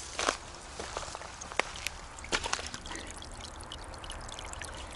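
Water trickles and flows steadily nearby, with small splashes and drips over a soft continuous babble.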